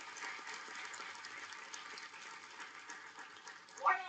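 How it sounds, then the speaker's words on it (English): A university orientation audience claps for a student, a steady wash of mid-distance applause lasting throughout, with a brief louder flurry near the end. "let's give him a big round of applause"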